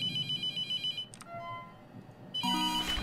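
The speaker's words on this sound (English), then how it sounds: "Not answering the fucking phone." Telephone ringing in the horror game The Mortuary Assistant, with bursts of bright electronic ring tones starting and stopping, then a louder ringing burst near the end. No speech is present.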